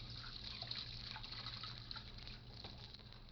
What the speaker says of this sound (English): Then I went over to the washstand and started to wash